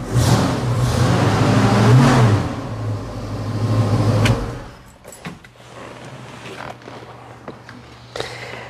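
A car with a GT exhaust revs hard in a few loud, deep surges, then settles into a lower steady idle with clicks and knocks around it.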